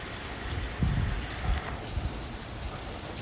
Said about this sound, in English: Even though we're getting seemingly just light rain